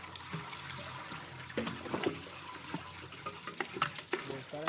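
Water trickling and splashing as watermelon juice is made on a farm, a soft continuous dribble with a few brief clinks, fairly quiet and steady.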